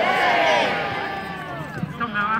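Crowd at a tournament joust shouting back a greeting, a loud swell of many voices that trails off and gives way to scattered noise.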